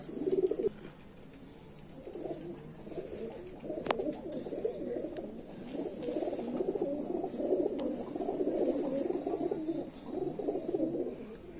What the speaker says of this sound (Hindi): ये किकर वाला कबूतर है किकर वाला कबूतर है जी